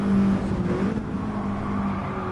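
Racing cars running side by side in a video game, a loud, steady engine drone with a faint higher whine layered over it.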